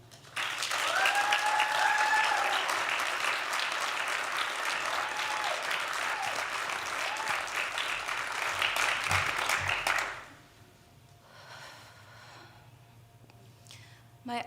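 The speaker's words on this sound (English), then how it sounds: "Please give a warm round of applause for Paula Anatul." An audience at an evening mental health storytelling event claps steadily and loudly for about ten seconds, a dense even roar of hands that cuts off abruptly, leaving a quiet room with faint murmurs.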